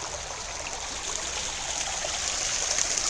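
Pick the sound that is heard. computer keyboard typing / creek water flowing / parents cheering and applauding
creek water flowing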